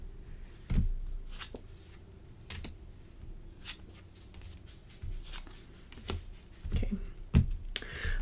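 Cards being shuffled and drawn during a tarot-style reading: scattered soft flicks and sharp snaps of cards at irregular intervals, close but quiet, with no talking.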